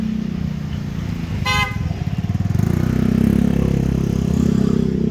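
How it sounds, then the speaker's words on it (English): Loud street traffic in Manila with many motorbikes: a short car horn toot sounds early, followed by a rumbling motorbike engine pulsing nearby and rising over constant road noise. "There's a lot of motorbikes here. It can be really loud traffic sometimes."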